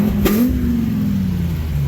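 A high-mileage Ford F250 step-side pickup with a block lift, its engine giving one loud, close rev that swells and then settles into a sustained drone.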